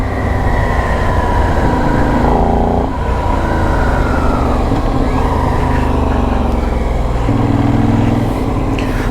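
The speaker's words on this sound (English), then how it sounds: "Well, a nice punchy twin engine." A Benelli 752S twin-cylinder motorcycle engine revs loud and close, a punchy drone that climbs and drops through several throttle blips over a steady idle, with no talk.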